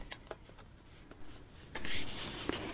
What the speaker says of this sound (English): Now our next fold is going to be a mountain fold.